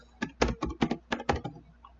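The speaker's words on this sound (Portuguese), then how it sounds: "E vamos digitar aqui" Keys clack on a computer keyboard in a quick burst of about ten close, distinct taps, irregular in rhythm, then a pause, with no voice.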